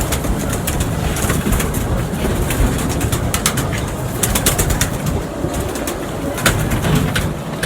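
Pigeons coo repeatedly nearby, soft throaty calls layered over a constant outdoor rumble.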